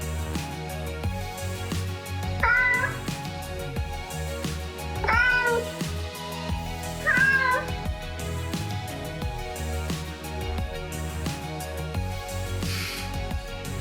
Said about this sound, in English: I hear more cats in the box.